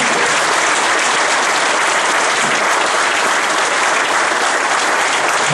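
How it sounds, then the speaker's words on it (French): Dense, sustained audience applause fills a conference hall at a company general assembly, loud and steady from start to finish with no talk over it. "Bon, je crois qu'on peut tous l'applaudir pour son intervention."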